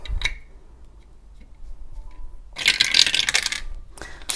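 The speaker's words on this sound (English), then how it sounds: "So let's just go ahead and start rolling this dice." Dice rolled for a cash-stuffing savings challenge: a sharp click near the start, then a busy clattering tumble of bright rattles and ticks partway through, close and fairly loud.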